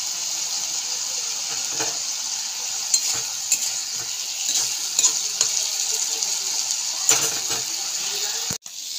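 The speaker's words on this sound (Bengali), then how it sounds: "কি সুন্দর মাছটা ভাজা ভাজা মতন হয়ে গেছে।" Small fish frying in a pan for a spicy fish curry keep up a continuous sizzle, with intermittent clicks and stirring knocks, one sharp thud near the end and no voices.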